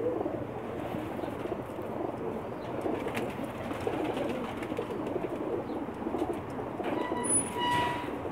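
Pakistani pigeons on a rooftop coo in soft, repeated low calls over a constant murmur of background noise, with a few brighter chirps near the end.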